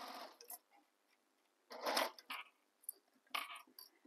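A domestic sewing machine stitches a tote bag seam, working through layers of fabric and interfacing in a few short bursts with quiet pauses between them.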